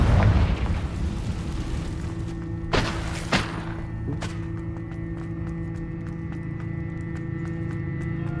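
A Confringo fire spell detonates in Hogwarts Legacy: a few sharp booming bursts in quick succession over a steady low hum, then the hum carries on with faint rapid clicks.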